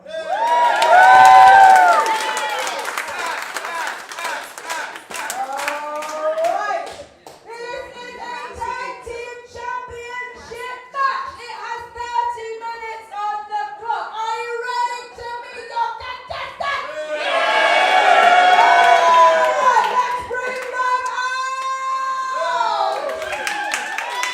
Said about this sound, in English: Let's a round of applause for Ashley now.